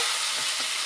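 Tomatoes and three whole green chillies fry in a pan for a tomato and poppy-seed dish, producing a brief, loud, dense hiss of sizzling as they are stirred.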